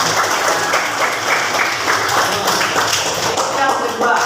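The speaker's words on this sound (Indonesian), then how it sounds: "Oke, tepuk tangan dong." Classroom applause, with students clapping together in a dense, steady patter that runs for several seconds at close range.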